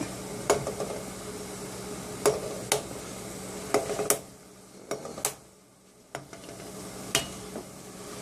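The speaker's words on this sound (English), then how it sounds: "I'm going to tap each one and crack it" Boiled eggs tapped and cracked with a spoon, a series of sharp, separate clicks and knocks at irregular intervals, close and fairly quiet, with a short lull partway through.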